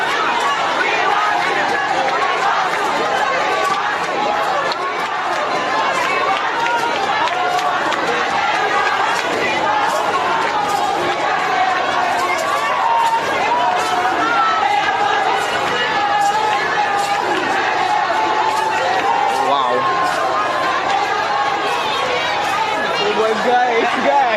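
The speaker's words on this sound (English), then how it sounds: "Oh, what's the crowd?" A large crowd at a street protest in Rivers State fills the air with dense, continuous chatter and shouting, loud and close throughout, with voices of nearby people mixed into the babble.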